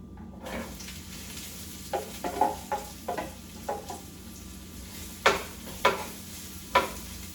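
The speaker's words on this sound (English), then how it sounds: "Put that in the saute pan along with the Poblano chilies." Sliced white onion and poblano chilies sauteing in a pan, a steady low sizzle broken by repeated sharp scraping stirs of a utensil against the pan, close and moderately loud, with no talk.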